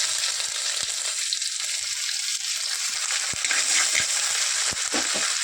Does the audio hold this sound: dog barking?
no